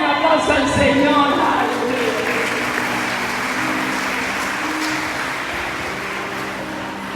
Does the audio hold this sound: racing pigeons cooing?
no